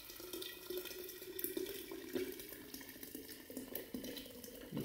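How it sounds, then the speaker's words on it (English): Boiled water pours slowly and steadily into a jar set on a towel, a continuous close trickling and splashing stream with a few small bright clinks along the way. "So very slowly, I'm going to pour my water in."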